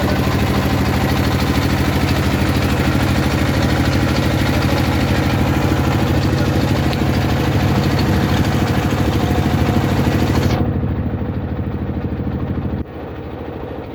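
A boat engine runs loudly and continuously close by on a river trip near Jaflong, Sylhet, with a steady low throb that drops away abruptly near the end.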